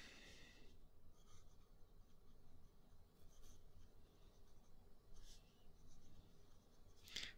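An ebonite fountain pen made in India, with a very wet nib, scratches and rubs across paper while drawing, a faint close scritching in soft continuous strokes, with no talking.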